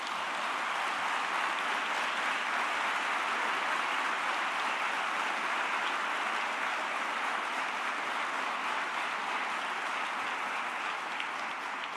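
Sustained audience applause at a business executives' conference fills the whole stretch, a dense, steady wash of many hands clapping with no voices on top.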